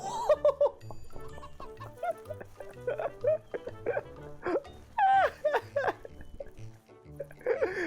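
A galloping chicken creature in the video game CHKN gives a string of squawky, warbling clucks over a steady low game soundtrack. The clucks are uneven and come close together.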